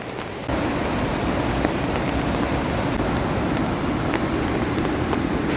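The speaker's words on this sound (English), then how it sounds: "right now I'm next to a river again, where it gets so loud." A loud river rushes without pause, a dense roar of churning water that fills the whole scene. Nobody speaks.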